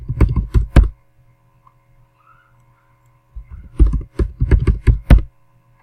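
Password being typed on a computer keyboard: a quick burst of loud, close key clicks, a pause of near silence, then a second rapid run of keystrokes.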